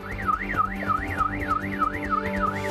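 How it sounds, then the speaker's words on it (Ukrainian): A car alarm, set off by a break-in, wails in a steady rising-and-falling siren pattern, repeating about every third of a second, loud and continuous with a low hum beneath. "за кілька хвилин сигналізація повідомила: в авто хтось вдерся"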